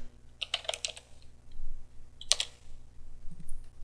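Typing on a computer keyboard, with two short clusters of crisp key clicks close by over a quiet background hum, and no voices.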